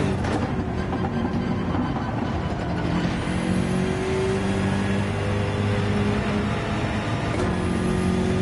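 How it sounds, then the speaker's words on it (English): A BMW M6 engine in Gran Turismo 7 holds a steady, loud, unbroken drone that rises and falls slightly as the car races, with no voices over it. "Now the BMW M6, are we going to be revving out this vehicle?"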